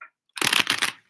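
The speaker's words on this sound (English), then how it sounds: "I want to shuffle again, get them good and shuffle." A deck of tarot cards is shuffled in one quick, crisp riffle lasting well under a second, close to the microphone, after a moment of near silence.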